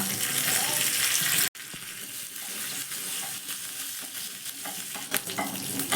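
Curry leaves drop into hot oil with chana dal tempering over a low gas flame, opening with a loud sizzle that cuts out briefly, then steady frying crackle and spoon stirring with a few sharp pops.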